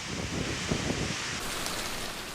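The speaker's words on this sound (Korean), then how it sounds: "정말 비 많이 옵니다." Heavy rain pours down on Yakushima island, a dense, steady wash of noise with no pauses.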